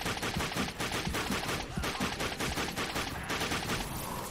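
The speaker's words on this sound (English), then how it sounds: "Stop shooting at me, bro." Dense, continuous gunfire from the PS4 shooter game Darkness 2, loud and close, with overlapping rapid shots and bursts running throughout without pause.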